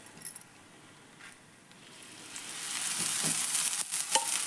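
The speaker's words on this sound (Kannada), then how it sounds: "ಇದಕ್ಕೆ ನಾನು ಎಣ್ಣೆ ಹಾಕ್ತೇನೆ ನೋಡ್ರಿ ಸುತ್ತಲೂ." Oil drizzled around a leftover-rice thalipattu on a hot pan starts a gentle sizzle that grows steadily louder and hissier, with a couple of faint metallic clinks.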